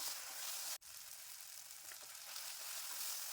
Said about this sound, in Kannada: ಟೊಮೊಟೊ ಸಾಫ್ಟ್ ಆಗೋ ತನಕ ಫ್ರೈ ಮಾಡ್ಕೊಳ್ಳೋಣ.